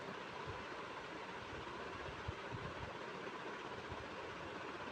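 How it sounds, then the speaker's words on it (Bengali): Marinated katla fish sizzling in hot oil, a loud, dense, continuous hiss and crackle close by, with irregular low thumps and no voices. "আমি এখন মাছটা ঢেলে দেব।"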